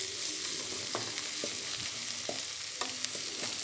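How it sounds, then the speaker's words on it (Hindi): Egg and bottle gourd bhurji fries in a pan, giving a steady soft sizzle with a few brief stirring scrapes and clicks close by, no voices. "इसे कंटिन्यू हम थोड़ी देर और भूनेंगे"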